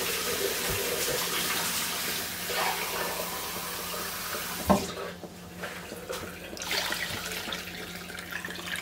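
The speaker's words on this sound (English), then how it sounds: "I'm going to add some hot water" Hot water runs into a large canning pot holding jars of pineapple, a continuous rushing pour that briefly thins out midway, then resumes with a steady splashing flow.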